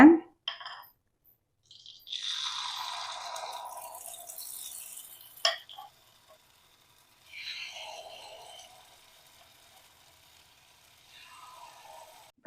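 Aval paniyaram batter poured into hot ghee in a paniyaram pan, giving soft hissing sizzles in several separate bursts with quiet gaps, plus an occasional metallic clink.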